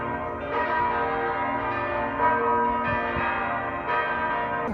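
Basilica church bells ring out loud and clear in the city on a Sunday morning, a steady peal of overlapping tolls with long resonant hums, no voices.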